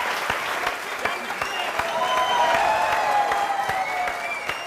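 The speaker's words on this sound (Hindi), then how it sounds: "जोरदार तालियां इन लोगों के लिए।" A studio audience at a TV courtroom-style talk show applauds dancers after their performance. Steady, fairly loud clapping fills the room throughout, with a faint tonal sound drifting above it.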